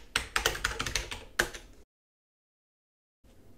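Rapid clicking keystrokes on a computer keyboard for under two seconds, then a stretch of silence before faint sound returns, with no talking.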